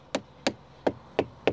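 Knuckles rap on the hard plastic door trim inside a 2023 Audi RS6 Avant, giving five sharp, hollow knocks at a steady rhythm, close up and clear, with no talking.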